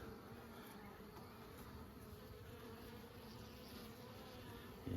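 Honeybees buzzing steadily inside a ten frame hive, a dense, even drone held close and continuous throughout with no talk.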